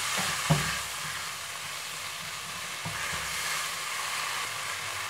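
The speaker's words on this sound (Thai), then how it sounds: "ใส่ไปเลยค่ะ แล้วก็ผัดให้วุ้นเส้นสุกนะคะ" Glass noodles being stir-fried with pad thai sauce in a pan, giving a soft, even sizzle with a couple of faint knocks of the utensil and otherwise little movement.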